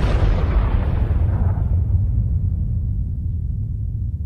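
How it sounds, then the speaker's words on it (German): A cinematic explosion sound effect: a single deep, loud boom that rolls into a heavy rumble and slowly fades over about four seconds, with no voices. "Unserer Erfahrung nach wird bei einer Explosion alles vom Zentrum aus weggesprengt."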